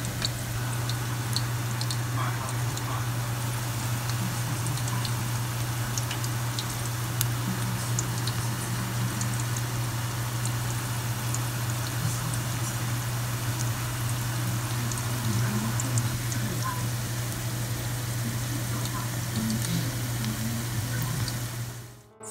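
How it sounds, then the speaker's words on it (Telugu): Pakoda batter frying in hot oil, a soft continuous sizzle with scattered small pops and crackles under a steady low hum, fairly faint and without talk. "నూనెలో వేగేటప్పుడు"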